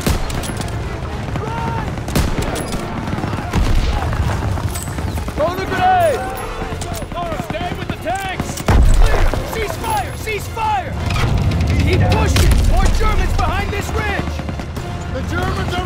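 Battle in the World War II shooter Call of Duty, with bursts of gunfire and grenade explosions rolling through a continuous war mix while soldiers shout over the action.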